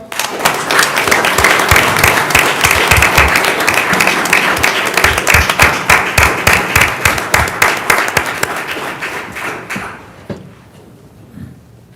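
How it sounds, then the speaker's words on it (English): Audience members clap at a Romulus city council meeting, a loud, close round of applause with distinct individual claps that thins out and stops near the end, leaving quiet room noise. "Let's give him a round of applause."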